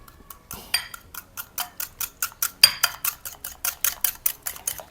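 A pudding mixture for serradura beaten by hand in a bowl, a fast, even series of light clinking taps from the utensil striking the bowl, close and clear with no talk.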